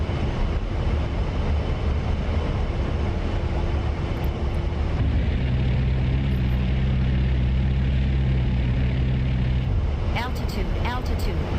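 An A-10A jet in the DCS combat flight simulator roars steadily with a dense engine rumble throughout, with a low tone shifting midway and faint short chirps near the end.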